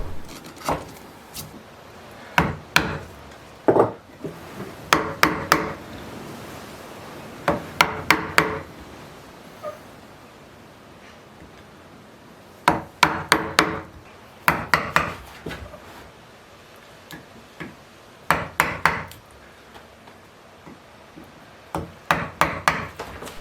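Hand carving of wooden letters for a mailbox, chisels struck in short bursts of sharp taps and knocks separated by quiet pauses, close and clear with no talking.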